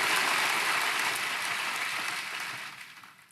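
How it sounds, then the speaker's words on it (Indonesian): A church congregation applauds the praise and worship team, a thick, loud wash of many hands clapping together that holds steady and then slowly fades toward the end. "Boleh tepuk tangannya di extend buat tim praise and worship kita."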